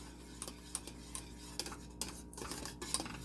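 Spices being stirred into thick, bubbling macaroni and cheese on the stove, with a spoon knocking and scraping against the pot in light, irregular ticks over a steady low hum.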